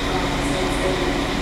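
A train pulls into a station en route to Halberstadt, giving a steady, broadband rumble and rail roar that holds at an even level with no pauses.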